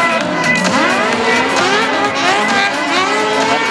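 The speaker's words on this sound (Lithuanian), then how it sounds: "Ypač tie S formos labai anksti stato šitą bagį skersą. Na, faktiškai driftas gaunasi." An autocross buggy in the B600 class slides sideways through an S-bend at a Baltic and Lithuanian race, its engine droning loud and steady with rising and falling revs.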